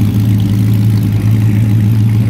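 A steady, low rumbling engine of a 1947 Ford Coupe street rod idles close by, holding an even note throughout with no revving.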